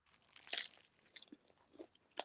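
Crunchy bites and chewing of a fried bologna sandwich topped with potato chips, a few close, crisp crunches spread unevenly across a quiet background.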